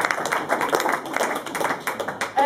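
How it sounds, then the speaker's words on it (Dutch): Audience clapping at a tribute jazz concert, applauding the drummer as he is introduced; a short, lively burst of hand claps from a modest crowd, close and fairly loud, with irregular overlapping claps throughout. "En hij mag twee extra applausen."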